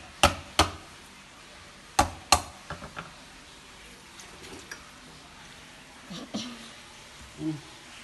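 Lemongrass stalks for rendang are smashed and chopped on a board: several sharp, close knocks in two quick pairs, then softer scattered taps and handling noises.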